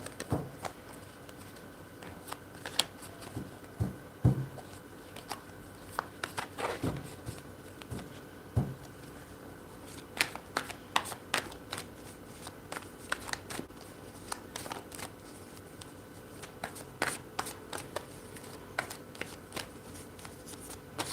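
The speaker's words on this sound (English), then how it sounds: "I'm going to pull cards for Dio solo" Tarot cards being shuffled by hand, a run of soft papery riffles and taps that come in irregular bursts with brief pauses between them, close and fairly quiet with no talking.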